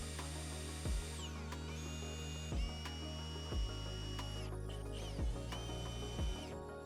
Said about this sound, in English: drill a hole using a 17 32nd inch drill bit